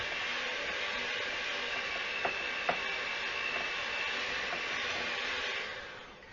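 An electric mixer beats biscotti dough, giving a continuous whirring drone with a couple of faint knocks midway, quiet and steady before tapering off near the end.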